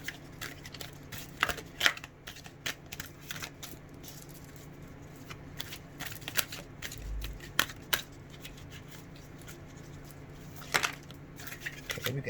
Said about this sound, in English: I'm gonna split the deck